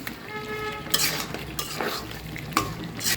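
Meat being stir-fried (kosha) in a pan, with a low sizzle under a few sharp scrapes and knocks of a spoon against the pan, heard up close.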